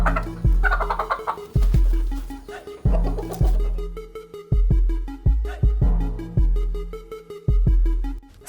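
A Rhode Island Red rooster crossed with a Burmese hen gives a run of loud, close gobbling, clucking calls in repeated bursts, with no talking over them.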